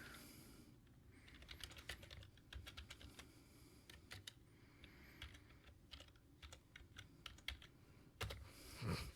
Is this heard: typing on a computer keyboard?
yes